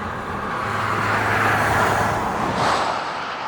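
An electric Mercedes-Benz G 580 playing its engineered V8-like drive sound, a low rumbly growl that swells as the vehicle passes, with broad road and tyre noise over it.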